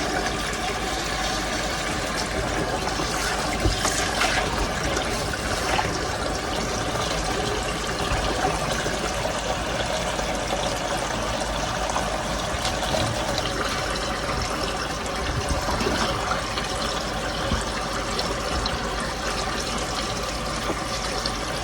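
Water being dumped out during garden seed starting, a continuous splashing, trickling pour that runs steadily for about twenty seconds at a close, even level, with no voices.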